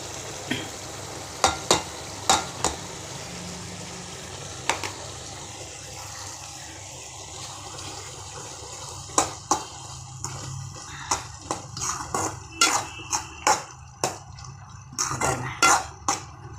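Ground spice paste goes into a pan of kurma and is stirred in, giving quiet scraping and sharp spoon taps against the pan over a soft, steady simmer.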